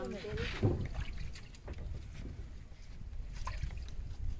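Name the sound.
boat on river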